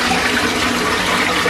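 Steady rush of clean water flowing into an old traditional Japanese toilet, a close, continuous wash with no breaks, loud and alone.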